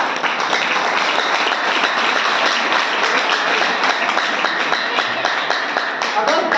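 A loud, dense burst of crowd applause answers a business leader's speech at SVS Farm House. Many hands clap continuously and evenly from start to end, close and full, with hardly any break.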